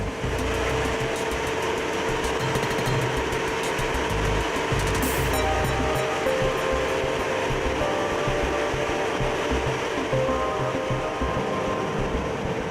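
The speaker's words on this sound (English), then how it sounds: "That's a diamond drill." Loud, continuous mechanical grinding and rumbling from a diamond core drill boring into rock for core samples, running steadily, with a brief high whine partway through.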